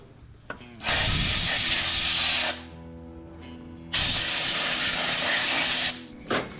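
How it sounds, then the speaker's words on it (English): Two long, loud bursts of compressed air from an air blower hiss at a part on a rat rod wrecker, each lasting about one and a half to two and a half seconds, with short quiet gaps and a brief puff at the end. "Maybe hand me an air blower. Okay. I'm gonna blow that."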